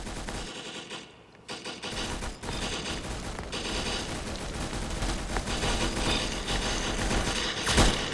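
Rapid gunfire in the video game Arsenal, dense overlapping bursts of automatic shots with sharp cracks, loud and continuous through most of the stretch.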